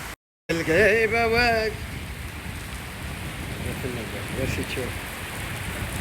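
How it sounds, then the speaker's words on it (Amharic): Sudden heavy rain falls on a road in Richardson, Texas, a dense steady hiss throughout, with a person talking over it early on. "ኃይለኛ ዝናብ ድንገት እየጣለ ነው ያለው።"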